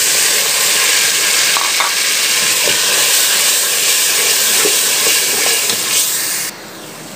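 Tomato paste with ginger-garlic paste frying in a pan for goat trotters curry, a loud steady sizzle and hiss with faint stirring scrapes, continuous and close, easing slightly at the end.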